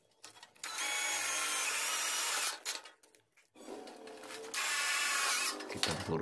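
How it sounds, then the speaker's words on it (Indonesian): A power drill whines in two long bursts, driving roofing screws into light steel hollow section, with a short pause between them and some clatter at the end. "Di sini saya bor menggunakan baut roofing aja teman-teman"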